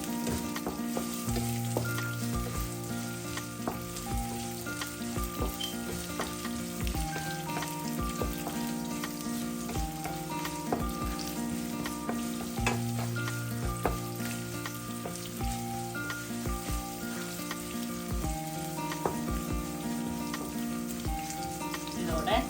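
Fenugreek seeds fry in hot oil for a Sri Lankan egg curry, a steady close sizzle and crackle lasting throughout with faint stirring and no talk.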